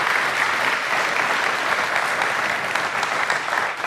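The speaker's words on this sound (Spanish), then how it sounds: "¿Por qué no le damos un aplauso a esas hermanas y las que están aquí?" A church congregation at a Sunday service applauds its volunteer sisters, steady and even clapping from a full room filling the space without pause.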